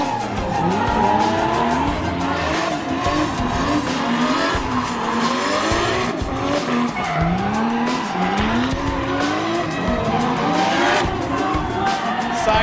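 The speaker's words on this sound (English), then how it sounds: "It's a new form of motorsport and it's called drifting" High-power rear-wheel drive cars drifting sideways at a motorsport event, their tires squealing in long, wavering wails over roaring engines, loud and continuous with rising and falling pitch.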